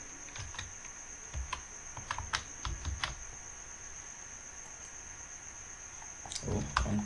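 A computer keyboard being typed on, with scattered soft key taps in short bursts, a pause, then a few more taps, quiet and close over a faint steady hiss, with no voices.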